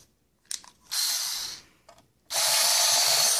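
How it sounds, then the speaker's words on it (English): A power tool driving out the four screws that hold a hoverboard motherboard, heard as two close, fairly loud whirring bursts of about a second each, with a few small clicks before them. "I'm releasing those four screws."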